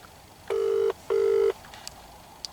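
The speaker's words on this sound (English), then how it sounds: "Is he going to answer the phone?" An outgoing phone call rings at the caller's end, sounding two steady, loud electronic ring bursts of about half a second each, separated by a short pause, over quiet background.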